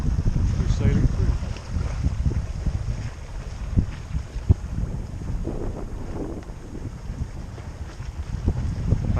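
A sailboat glides under a bridge while wind rushes across the microphone and water sloshes along the hull, a steady low roar with a few knocks and faint voices.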